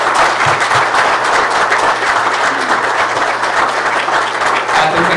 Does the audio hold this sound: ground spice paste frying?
no